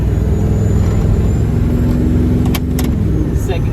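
A car with a Procharged LS3 engine pulls away in first gear, its loud, close, steady engine drone rumbling low, with a faint rattle of keys and brief clicks near the end.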